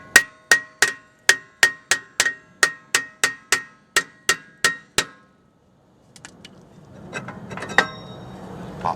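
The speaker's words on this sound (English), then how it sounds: "They take a little bit of convincing, so I'm going to go get me a little hammer" Fourteen sharp metallic clangs in steady rhythm as a hammer pounds a stuck rear brake rotor on a 2004 Nissan Maxima, each ringing briefly, followed by quieter scraping and shuffling of the loosened part.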